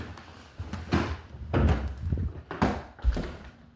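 A house door being opened to let a dog in, with several dull thuds and rattles over a few seconds, close by, without speech.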